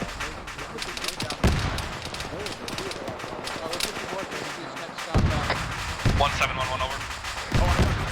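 Gunfire bursts during a military simulation platoon training exercise, with sharp loud cracks at intervals against steady background noise while voices talk over the radio.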